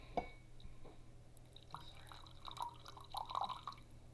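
Liquid pours and drips into a small measuring cup while pie crust is being made, faint trickling splashes that build toward the end over a low room hum.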